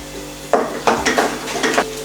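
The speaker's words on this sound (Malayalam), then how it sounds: "ഇനി ഇതിലേക്ക് കുറച്ച് കറിവേപ്പില ഇട്ട് കൊടുക്കാം" Curry leaves drop into hot coconut oil, giving several sharp crackling sizzle bursts in quick succession over a steady low background hiss, close and fairly loud.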